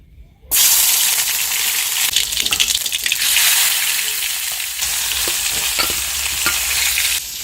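Hand-torn tomatoes drop into a hot pan for a forest chutney and sizzle loudly at once, a dense, steady frying hiss with occasional stirring scrapes close by.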